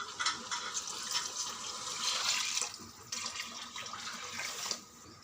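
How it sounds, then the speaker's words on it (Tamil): Water pours and splashes steadily into a cooking pot for biryani, several seconds with a brief break midway before the flow resumes. "நாங்கள் 3 கப் தண்ணி தான் ஊற்றுறோம்."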